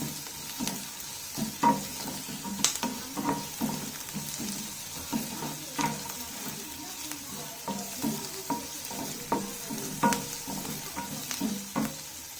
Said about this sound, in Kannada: ಇವಾಗ ಈರುಳ್ಳಿ ಸ್ವಲ್ಪ ಫ್ರೈ ಆಗೋವರೆಗೂ